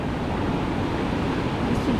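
Surf rolls onto the beach at El Nido in the Philippines, a steady close wash of breaking water mixed with wind rumble on the microphone and no voices.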